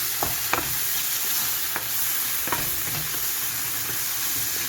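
Mushrooms sizzle and fry steadily in a hot pan with a constant hiss, broken by a few light clicks and scrapes of stirring.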